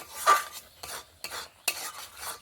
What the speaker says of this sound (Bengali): দেখুন আমি যেভাবে কন্টিনিউ নাড়াচাড়া করছি এইভাবেই কিন্তু নেড়ে চেড়ে আমের পাল্পটা ভালো করে জাল করে ঘন করে নিতে হবে।